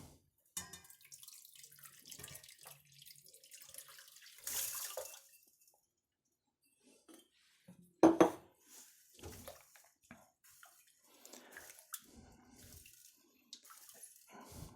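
Liquid poured over salted pike roe in a kitchen, heard as intermittent close splashes and trickles separated by pauses, with a louder pour near the middle; no talk.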